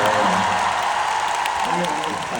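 A live concert audience applauds in a dense, steady roar of clapping at a Hong Kong show, with a voice speaking over it.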